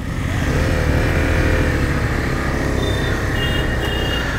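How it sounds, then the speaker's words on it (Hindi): Several KTM Duke motorcycles start up and ride off from a group meet-up, a steady blended engine drone with idling and revving throughout, loud and continuous, with a faint high beep near the end. "यहाँ अपने भाई जितने भी हैं धीरे धीरे स्टार्ट बाइक कर ली और निकल चुके हैं"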